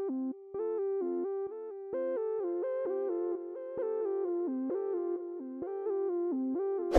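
A bright synth lead, the Surge preset Butter, plays a steady melodic line of short stepped notes, sustained and alone, with a rich buzzy tone.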